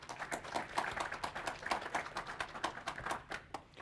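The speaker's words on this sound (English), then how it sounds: "How about a nice big round of applause for Leland Lammert?" Faint, brisk applause from a Nagios World Conference audience ripples for a few seconds, a steady patter of many clapping hands heard from a distance.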